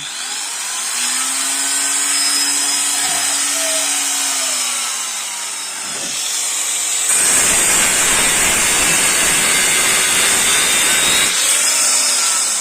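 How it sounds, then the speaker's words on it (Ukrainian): A GTM AG 125/1400VS variable-speed angle grinder hums at low speed with a steady whine, then grinds louder and rougher for several seconds before easing back. "Болгарка не відрубається нічого."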